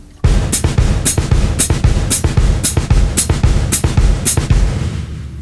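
A samba foot pattern at full tempo, kick drum thumping between sharp hi-hat chicks in a quick, even groove, close and loud without any voices.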